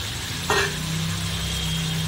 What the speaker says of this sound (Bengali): এবারে আলু দিয়ে আরো কিছুক্ষণ আমি এটা কষবো।